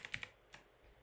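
A handful of quick, clicky keystrokes on a loud computer keyboard, with a few taps in fast succession and then one more, close and isolated in a quiet room.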